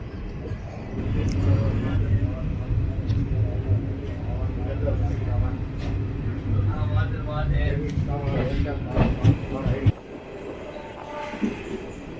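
Jan Shatabdi Express train rolling over rails as it joins the main line, a steady loud rumble of wheels and carriage noise throughout, with a voice talking over it.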